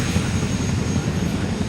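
A helicopter's steady low-frequency engine and rotor drone, continuous and fairly loud throughout the short stretch, with no voices over it.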